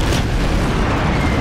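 A dense, roaring blast from a large explosion in a chaotic free-to-play battle video game, loud and continuous across the whole moment with no talk over it.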